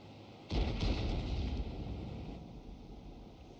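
One deep tank cannon blast in the World of Tanks video game booms out, then rumbles away in a long fading tail, fairly faint overall.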